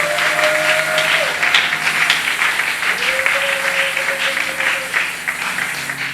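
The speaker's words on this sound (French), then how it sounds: "Est-ce que tu peux acclamer pour toi-même?" A church congregation applauds steadily, a dense sustained clapping that fills the room at a constant level with a faint tone beneath it.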